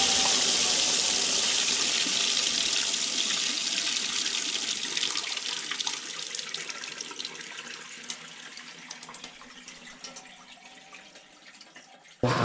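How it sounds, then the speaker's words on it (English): Water rushing out of a washing machine during a repair, a steady broadband gush that slowly weakens over about twelve seconds before a sudden bump at the very end. "And run all the water out."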